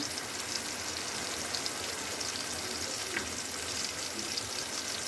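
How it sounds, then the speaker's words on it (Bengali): Ground cumin, ground coriander and other spice powders sizzle steadily in hot oil while being stirred for a Gobindobhog-rice chicken biryani; a continuous close frying hiss with no talk. "জিরে গুঁড়ো, ধনে গুঁড়ো, সব একসাথে নেড়ে চেড়ে নেব।"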